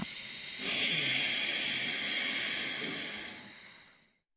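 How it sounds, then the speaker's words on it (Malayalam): A long, forceful exhale pushed through the throat during an Upa Yoga breathing step makes a steady breathy hiss. It starts abruptly, holds for about three seconds and then fades out into silence. "ശ്വാസം പുറത്തേക്ക് വിടുമ്പോൾ എപ്പോഴും തൊണ്ടക്കുഴിയിൽ നിന്നും ഒരു ശബ്ദമുണ്ടാക്കുക"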